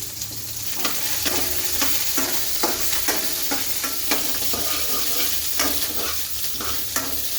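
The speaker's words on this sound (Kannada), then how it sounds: "ಆನಿಯನ್ನ ಹಾಕ್ಕೊಂಡು ಫ್ರೈ ಮಾಡ್ಕೊಳ್ಳಿ" Sliced onion fries in a pan while being stirred, a constant hissing sizzle broken by repeated scraping strokes of a spoon against the pan at a fairly even pace, close and clear with no talking.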